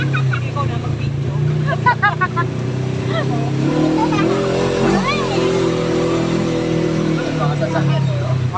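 Vehicles pass along a road during an ATV ride, engine drones and rising revs mixed with steady motor hum while people talk over them.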